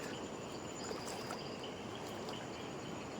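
Faint, continuous rushing and trickling of knee-deep river water at night, steady throughout with no talking.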